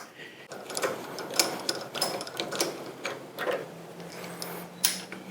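Tap cutting tapered NPT threads into metal on a classic Honda part, a series of close, sharp ratcheting clicks and scrapes in an irregular rhythm, with a brief low hum near the end.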